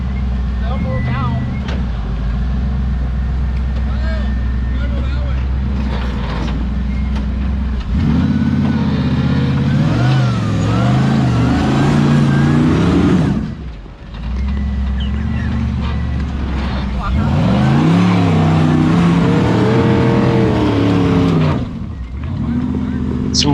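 An LS-powered car revs high and loud, smoking a tire on dirt at a Frontenac Farms event, with the engine note rising and falling for most of the stretch, cutting out briefly twice, while people talk over it.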